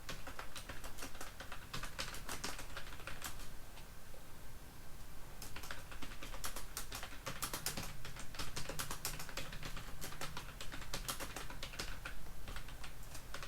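Keys on a computer keyboard clatter in quick, uneven bursts of typing with a short pause near the middle, close and fairly quiet, with no voice.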